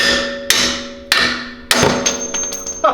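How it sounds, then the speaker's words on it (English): Three sharp metallic ball peen hammer strikes land at a steady pace during a leveling kit install on a 2011-2016 Ford Explorer, each ringing briefly, followed by lighter clinks and scattered metal taps, fairly close. "you're going to get you a good old ball peen hammer"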